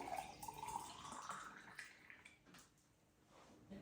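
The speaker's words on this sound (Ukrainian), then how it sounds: "Для початку налью собі скляночку води." Water poured from a jug into a small glass indoors, a faint trickling splash with a rising tone as the glass fills, then brief drips and quiet room noise.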